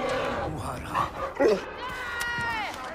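A dog in the Far Cry Primal video game yelps and whines amid game sounds and scuffling, with a few short sharp cries in the middle.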